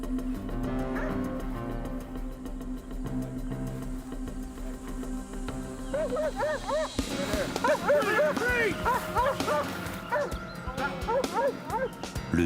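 A police dog barks in repeated sharp yips and woofs, growing louder and busier in the second half over a steady low background.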